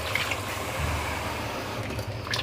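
A cup of water is poured into a pressure cooker holding beef karahi with halved tomatoes, producing a steady, soft splashing trickle lasting a couple of seconds.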